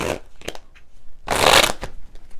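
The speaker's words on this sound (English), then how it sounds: "I understand the shuffling sometimes is frustrating for people, so I'm trying to reduce it." Tarot cards shuffled in quick riffling bursts, a short flutter, a couple of brief snaps, then a longer loud riffle midway, close up with no talking.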